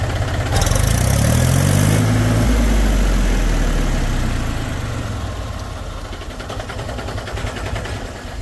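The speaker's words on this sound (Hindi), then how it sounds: "मेरा ट्रैक्टर स्टार्ट नहीं हो रहा, फिर हो गया स्टार्ट" A diesel tractor with a sticking clutch plate starts after several cranks and settles into a low, steady idle, loud and close, with a brief revving rise near the start.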